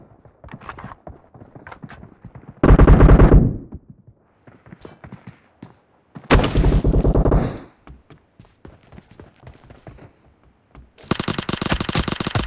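An UZI submachine gun firing in a warehouse map of a shooting video game: three loud sustained bursts of rapid automatic fire, separated by quieter stretches of footsteps and scattered clicks.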